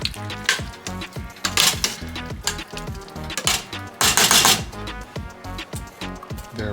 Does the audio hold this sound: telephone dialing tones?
no